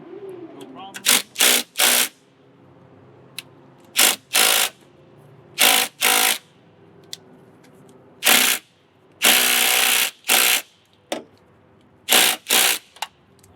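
A power drill unscrews the passenger door hinge bolts on a Ford Fiesta car, whirring in a series of short, loud, close bursts separated by brief pauses, with one longer run partway through.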